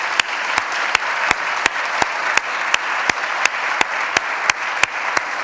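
At an awards ceremony, an audience gives an honoree a sustained round of applause, a broad wash of clapping over which one close pair of hands claps loud and evenly paced.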